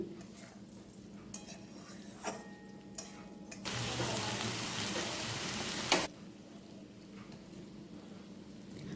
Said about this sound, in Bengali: সবজিগুলো মোটামুটি ভাজা হয়ে আসুক